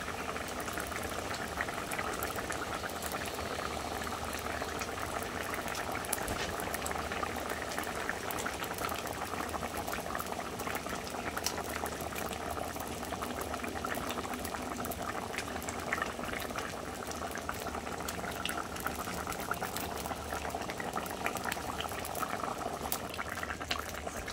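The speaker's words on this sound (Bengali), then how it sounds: "দেখো, আমার ঝোলটা ফুটে গেছে" Fish curry broth boiling hard in a cooking pot, a steady, dense bubbling and roiling that runs unbroken and fairly soft for the whole stretch, with no voices.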